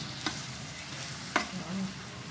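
Yellowfin tuna and pork steak frying in a pan, a steady sizzle with two sharp clatters as pieces are flipped, close and alone without talk.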